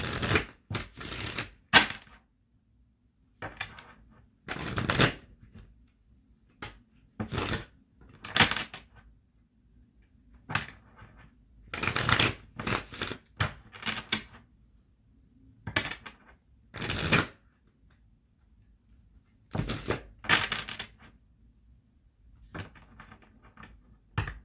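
Prisma Visions tarot cards shuffle in repeated quick riffling bursts, close and crisp, separated by short silent pauses.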